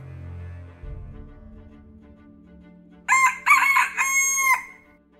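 A chicken in the Feather Family video game crows loudly once, a bright drawn-out cock-a-doodle-doo that breaks in after a few seconds of quiet low game sound.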